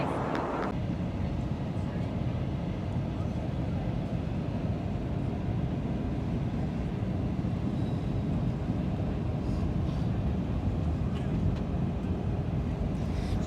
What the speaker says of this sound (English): Now time for approach and landing into Melbourne Tullamarine